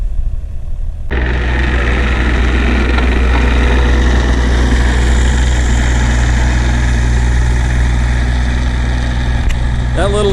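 A John Deere 8,000-pound excavator engine starts up and settles into a loud, steady low diesel rumble that runs unbroken to the end at a burn pit site.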